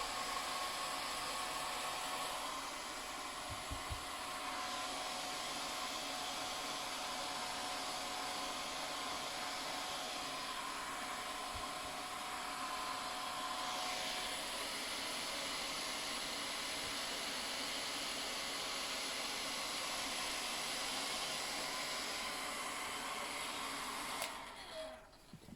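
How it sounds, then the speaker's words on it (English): A hairdryer blows steadily and loudly from close by for about 24 seconds to speed up the drying of stencil paint, with a broad airy roar that cuts off near the end. "to be a bit quicker, I'm just going to do it with a hairdryer"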